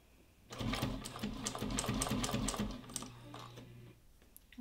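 A Juki 1541 industrial walking-foot sewing machine stitches through double-folded fabric in a steady, loud, rapid mechanical run of about two and a half seconds, then stops, leaving a quiet room.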